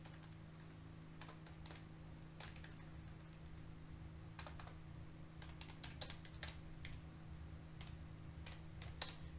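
Computer keyboard typing while Python code is written, with scattered clusters of quick, light key clicks over a steady low electrical hum, fairly faint and with no voice.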